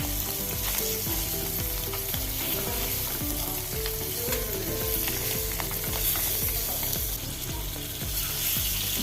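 Mackerel fries in hot oil with a dense, loud sizzle and bubbling, while a utensil scrapes and clatters against the pan in quick irregular strokes throughout.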